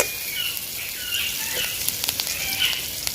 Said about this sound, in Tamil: பச்சை மிளகாயும் கருவேப்பிலையும் இது வதங்கட்டும்